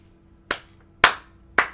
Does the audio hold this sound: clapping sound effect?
yes